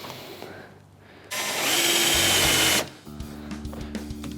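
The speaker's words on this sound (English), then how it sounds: "And then we drill some more holes." A power drill bores holes into plywood in one loud burst of about a second and a half, between quieter tool handling and faint clunks.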